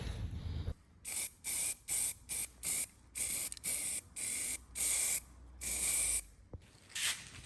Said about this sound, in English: I'm going to put a base coat down. This is some primer first